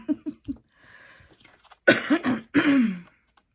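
Several short throat sounds lead into a couple of harsh, loud coughs close to the microphone, followed by silence.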